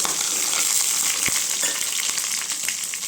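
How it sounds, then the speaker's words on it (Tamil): Onions sautéing in hot oil with mustard seeds, fennel and curry leaves for a black-eyed pea curry, a steady close sizzle with a few scraping stirs and no talk. "வெங்காயம் நல்லா வதக்கிட்டுங்க"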